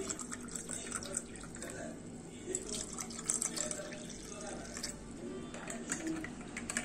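Water pours into raw mango panna in a kitchen, a soft continuous trickle and splash with a few bright drips, quiet and close, lasting several seconds.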